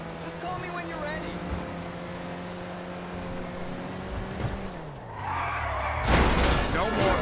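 A car skids across pavement with a long tire squeal in Grand Theft Auto V, ending in a sudden loud crashing impact near the end, with background game sound throughout.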